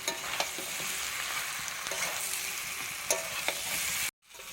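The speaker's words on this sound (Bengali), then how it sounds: "এখানে ভেজে রাখা এঁচড় আর আলু আমি একসাথে দিয়ে মশলার সাথে খুব ভালোভাবে কষিয়ে নেব।" Jackfruit and potato being fried and stirred together with spice paste, a steady close sizzle punctuated by scraping stirs, cutting off abruptly near the end.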